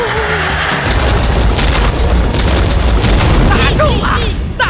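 A launched attack in an animated robot cartoon ends in a loud, heavy explosion, a booming roar that fills the scene and then trails into crackling debris and whooshing effects, with a voice briefly audible.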